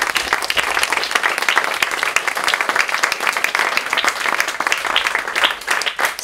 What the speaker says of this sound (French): que je vais vous demander d'applaudir là maintenant